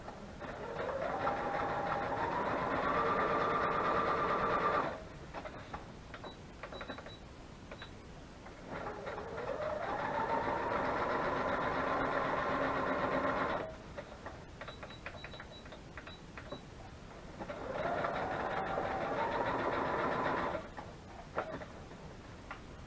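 A sewing machine stitches paper craft tags in three separate runs of several seconds each, with a whirring motor that rises in pitch as it speeds up. Quiet handling sounds fill the pauses between runs.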